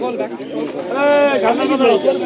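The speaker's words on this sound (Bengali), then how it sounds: "তো দেখেন এই দেশীয় পায়রাগুলো" Native domestic pigeons coo in low, throaty warbles at a pigeon market, close and steady, with a human voice faintly mixed in.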